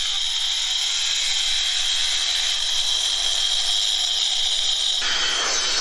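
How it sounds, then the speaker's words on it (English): A loud, steady high-pitched whine of a soft cut concrete saw cutting contraction joints, running continuously and shifting slightly in tone near the end. "That's a soft cut saw there."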